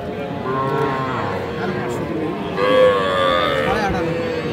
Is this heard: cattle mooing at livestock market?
yes